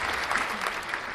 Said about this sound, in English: I'm gonna still say a round of applause for Trevor out there too